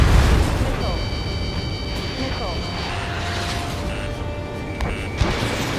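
Explosion of a destroyed target in the jet combat game Ace Combat 7, a booming blast that tails into a rumble amid game effects, beeping tones and radio chatter.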